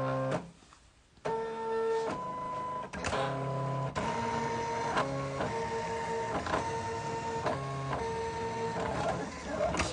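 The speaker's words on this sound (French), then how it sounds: "Allez, je lance la découpe." A Silhouette cutting machine, a Portrait or Cameo, cuts a Christmas elf decoration with an autoblade-type blade. Its stepper motors whine in short, shifting tonal bursts with brief pauses and pitch changes, close and clear, with no talking.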